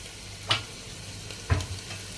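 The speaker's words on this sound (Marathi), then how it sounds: "याच्यामध्ये आपण आता हे धुतलेलं मटण टाकणार" Washed mutton, half a kilo, tossed into a pan of translucent onions for a spicy black-masala curry, giving a low sizzle with two clear stirring scrapes about a second apart, no talk.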